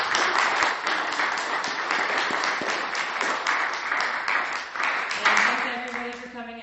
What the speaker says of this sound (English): I just want to do a round of applause for all of our panelists